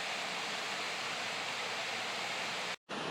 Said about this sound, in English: right here is a little waterfall, and it goes down into some other little waterfalls here